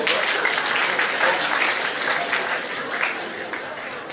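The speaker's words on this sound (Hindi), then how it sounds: "जोरदार तालियों के साथ अभिवादन करें" A dense burst of hall applause at a student merit award ceremony, loud continuous clapping from a large audience with a faint crowd murmur beneath.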